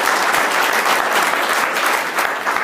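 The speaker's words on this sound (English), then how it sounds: "Please give him a round of applause" Steady, dense applause from a business-policy audience honoring a competition winner, loud and sustained throughout with no speech over it.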